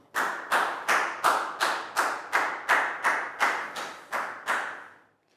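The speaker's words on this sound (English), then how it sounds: "Big round of applause for Down." Eleven slow, evenly spaced loud claps in a Year 3 maths classroom, each a sharp near smack with a short ringing tail, ending in quiet.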